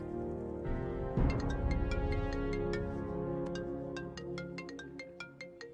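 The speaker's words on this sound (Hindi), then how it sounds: "तुम्हारे लिए कॉल है।" A telephone rings with an incoming call as a melodic electronic ringtone of repeated bright tonal notes plays over a low sustained musical background, moderately loud and alone.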